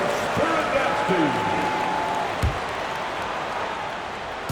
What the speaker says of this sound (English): Give a big round of applause for your Clippers Spirit Dance Team.